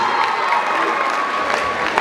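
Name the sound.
audience applause and cheering in amphitheatre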